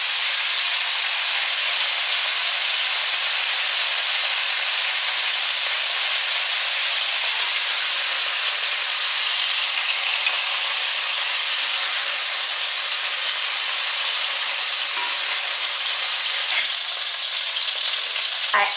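Salt cod frying in hot oil in a pan, a loud, steady sizzle and hiss that holds evenly throughout and eases slightly near the end, with no talking.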